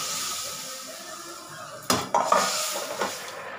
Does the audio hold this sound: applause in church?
no